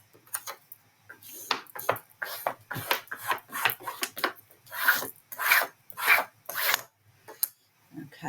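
Hand burnishing of pressed-in material, heard as a series of short, close rasping rubs in an uneven rhythm, each stroke a brief scratchy swipe with quiet gaps between.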